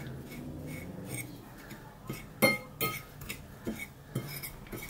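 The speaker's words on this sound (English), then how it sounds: "Mix out the dry ingredients." A utensil stirs dry ingredients, including salt and cinnamon, in a bowl, with scattered light clinks and scrapes against the side at an uneven pace, quiet and close.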